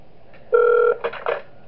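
Phone ringing inside the horror game Those Nights at Wario's 3, a short electronic ring lasting under half a second, followed by a couple of fainter chirps, close and clear.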